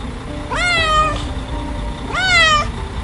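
A cartoon cat running in front of a bus gives two clear, drawn-out meows about a second and a half apart, each rising and then falling, heard over a faint background hum.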